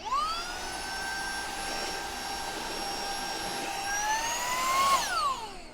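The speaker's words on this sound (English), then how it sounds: "And then I'll take the vacuum cleaner here," Vacuum cleaner sucking debris out of a lighting project for a Moomin house model, a loud, steady high-pitched whine with tonal harmonics that shifts in pitch and spins down near the end, heard alone.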